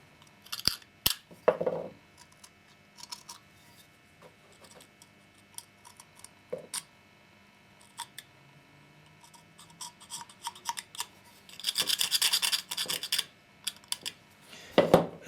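Old, stuck-on gasket material is scraped from a Stihl 026 / MS260 chainsaw carburetor, heard as irregular small ticks, clicks and scratchy scraping, quiet and close, with denser scraping bursts toward the end and no talking.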